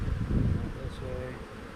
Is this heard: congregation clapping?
no